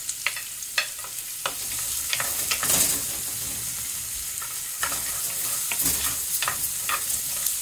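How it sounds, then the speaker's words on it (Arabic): Garlic, onion and green chili frying in oil in a stone pot for Yemeni fahsa, a loud continuous close sizzle broken by sharp scrapes and knocks of a stirring utensil, with no talking. "ونجيب هنا المقلة أو الحرضة اللي هي مصنوعة من الحجر، ونضيف الزيت، ونضيف الثوم والبصل والبسبس الأخضر."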